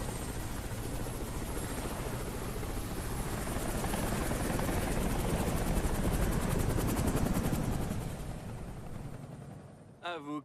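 A helicopter roars continuously with a dense, rapid rotor chop that swells toward the middle and then fades away, after which a voice briefly speaks.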